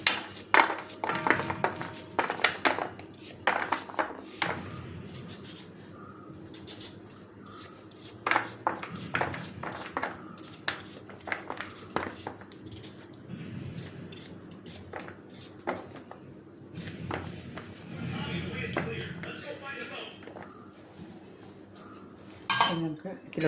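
A knife slicing carrots lengthwise into four fairly thick strips for a Kerala carrot and lentil kootu, giving repeated sharp clicks and taps on a board, with some clinks of utensils between the cuts.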